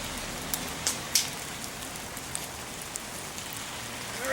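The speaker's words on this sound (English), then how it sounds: "here comes the rain" Steady rain falls around an outdoor woodshed, a dense even hiss with a few sharper drips and taps standing out near the start.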